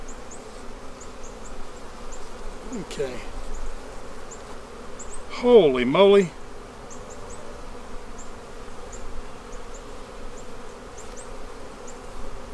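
Steady buzzing of many bees around a hive fills the clip, close and continuous, with a person briefly exclaiming a couple of times partway through.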